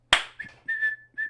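A whistle is blown in a few short, faint blasts after a sharp click, each thin tone lasting well under a second, with brief gaps between them.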